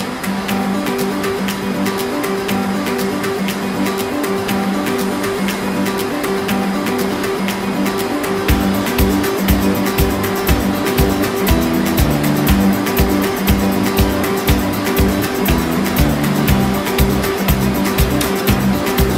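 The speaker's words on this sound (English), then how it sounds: "our handling system will change line" An Ingersoll Eagle G5 automation handling system changes line with a loud, continuous mechanical whir and hum that rises and gains rapid rhythmic pulsing partway through.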